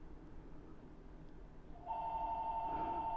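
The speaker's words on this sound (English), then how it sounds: "And there's the phone ringing," Telephone ringing faintly in a room, a steady electronic tone starting partway through and holding to the end, behind low background noise.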